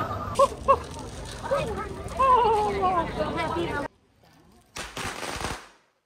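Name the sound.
firecrackers exploding at the Phuket Vegetarian Festival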